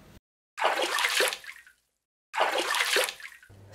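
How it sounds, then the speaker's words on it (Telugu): Water rushing and gurgling out of a pipe in an apartment bathroom or sump, coming in two loud bursts separated by a brief silence. "ఇదేంటి మోటార్ వేయకపోయినా నీళ్లు గలగలా పారుతున్నాయి?"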